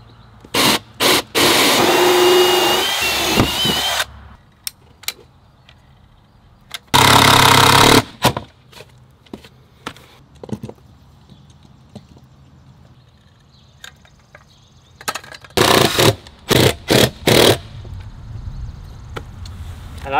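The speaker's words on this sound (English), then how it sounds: "I actually have to finish drilling the hole out for this one" A drill bores out a hole for a hose bib in several loud, separate bursts of whirring, with quiet pauses and small clattering noises in between.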